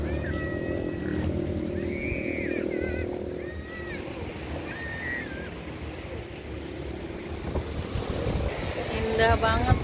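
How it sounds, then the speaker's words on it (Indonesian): Ocean surf at Cikembang beach, a continuous rushing wash of waves under steady wind noise, with bird-like chirps and people talking faintly through it. "main ke pantai"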